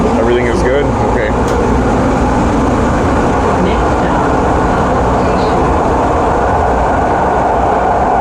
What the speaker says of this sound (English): I'm on the train underground, and I'm happy it's running smoothly.